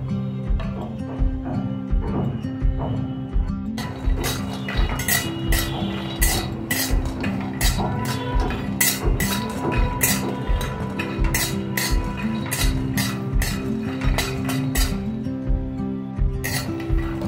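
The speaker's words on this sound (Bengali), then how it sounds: "আমি 1 মুঠো কাঁচা বাদাম ভেজে নেব, চীনা বাদাম ভেজে নেব।" Raw peanuts are dry-fried in a wok, giving a steady run of metallic scraping and clinking as a spatula stirs them, with a repeated rhythmic rattle against the pan.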